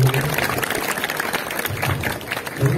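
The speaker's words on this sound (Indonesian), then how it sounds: "Tepuk tangan numun buat Prabu Wiro." A crowd at a Balinese comedy performance outside Pura Samuan Tiga claps for Prabu Wiro, moderate continuous applause with some crowd noise and brief voices mixed in.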